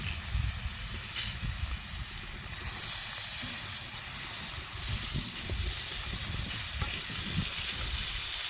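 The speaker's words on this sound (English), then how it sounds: "we'll cook the sausages for a little bit and throw the rest on" Sausages sizzling in a pan on a versatile, fuel-efficient cooker, giving a steady soft hiss with faint low crackles and occasional pops throughout.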